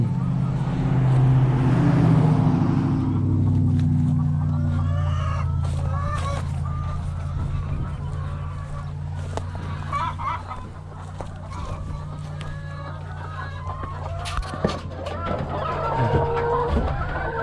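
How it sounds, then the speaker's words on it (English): Broody hens cluck and murmur in a busy coop on a free-range farm, with a steady low drone underneath and scattered rustling and short calls throughout. "This is where all the broody hens are."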